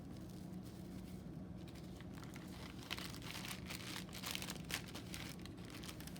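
Plastic wrap being crinkled and pressed around a ball of dough to seal its sides, soft irregular crackling and rustling, close but quiet, no talk.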